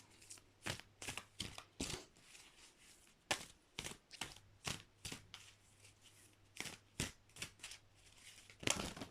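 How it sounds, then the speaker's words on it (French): Cards slap and flick sharply as a French oracle deck is handled and another card is drawn, a string of close, crisp snaps at an irregular rhythm over a quiet room. "Je vais retirer encore une carte de ce jeu"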